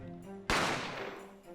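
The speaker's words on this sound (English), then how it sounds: "there was the gunshot" A single loud, sharp gunshot rings out in The Great Ace Attorney Chronicles, breaking a quiet sustained musical tone and then decaying into a long echoing tail.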